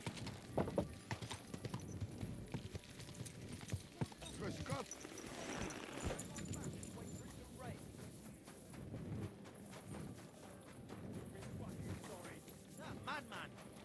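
Horse hooves clip-clop on a town street in Kingdom Come Deliverance 2, a steady walking rhythm close by with background game ambience and voices talking.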